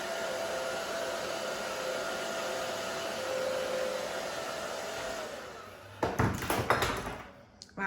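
Hair dryer drying the sides of a woman's hair, a steady loud blowing hiss that runs for about five seconds, then cuts off into brief handling clatter and a voice.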